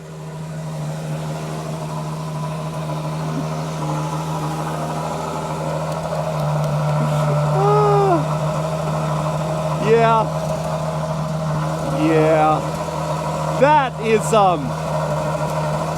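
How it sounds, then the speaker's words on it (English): A Ferrari Purosangue V12 engine idles with a steady, deep, even hum, heard from outside the car, while someone talks over it nearby. "Let's go hear that idle from outside the car."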